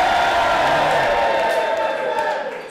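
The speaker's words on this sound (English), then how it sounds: "But as you can hear, the crowd here at Pro Wrestling Ceasefire, they want Jordan Said to tap." Wrestling crowd at a Pro Wrestling Ceasefire show, a steady, dense roar of cheering and shouting from a packed audience that holds loud throughout and eases slightly at the end.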